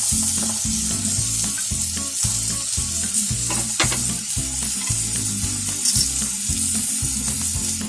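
Chopped tomatoes fry in a pan for spicy masala bread upma, giving off a steady, close sizzle broken by regular stirring scrapes that keep a repeating rhythm throughout.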